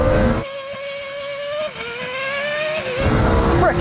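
A Lamborghini race car roaring hard in a drag race, its engine note climbing steeply through rising gear pulls with a brief shift dip, loud and close, fading slightly at the end.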